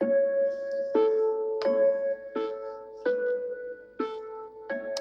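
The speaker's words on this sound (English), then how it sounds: "This E piano that comes with a full studio" A smooth electric piano from studio software plays sustained chords with a gentle harmony, each new chord struck at a steady pace about every three-quarters of a second, ringing warmly without any voice.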